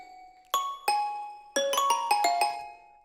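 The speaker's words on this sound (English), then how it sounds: "And then I layered that with a marimba from Serum as well." Bright Serum synth marimba tones layered with a tinkly toy piano play a short melodic phrase of struck notes, each ringing and decaying cleanly.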